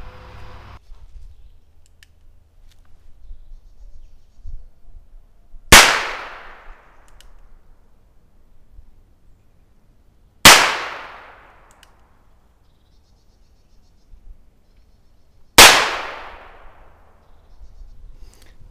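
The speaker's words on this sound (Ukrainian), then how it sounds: "Я зроблю серію пострілів з попереднім взводом курка і серію пострілів самовзводом." Three loud, sharp shots from a Nagan RNR-UOS 9 R.A. revolver, fired single-action, each ringing out and fading, spaced about five seconds apart with near silence between.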